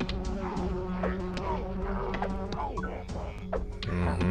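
Bees buzzing from a thrown beehive in Lumberwhack, a dense swarm of steady droning buzz with wavering pitch, close and continuous, punctuated by small game clicks.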